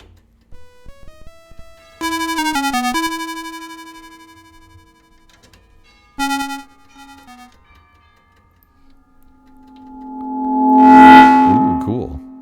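A Korg ARP 2600M synthesizer sounds a series of bright tonal blips and ringing notes with reverb tails, then a louder swelling tone that rises and fades, played alone without talk.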